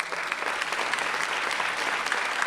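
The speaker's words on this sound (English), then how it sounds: "Let's give them a round of applause." Audience applause at a library ribbon cutting ceremony: dense, even clapping from many hands, sustained and fairly close throughout the short stretch.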